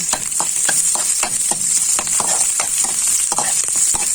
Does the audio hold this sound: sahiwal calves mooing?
no